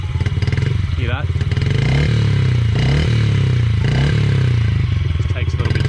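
A petrol TTR dirt bike engine warming up, loud and close, its rough idle swelling into repeated short revs with a chattering exhaust, while voices talk over it.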